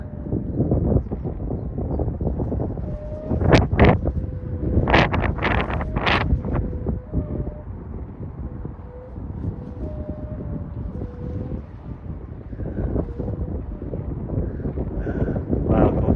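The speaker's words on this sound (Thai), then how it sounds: "ลมแรงครับวันนี้แรงมากครับ" Strong, gusty wind roars and buffets steadily against the microphone outdoors while a 95 cm Thai Chula kite with a repaired broken head is flown, with a faint whistling tone running underneath.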